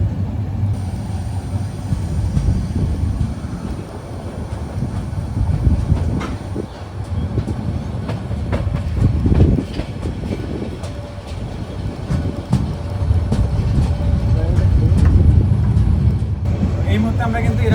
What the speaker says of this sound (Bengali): এই মুহূর্তে আমাদের ট্রেন কিন্তু পার করতেছে একদম 2 পাহাড়ের মাঝখান দিয়ে